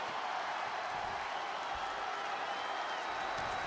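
Arena crowd cheering and applauding in the wrestling video game WWE 2K23, a steady wash of faint, distant roar and clapping, with no clear talk.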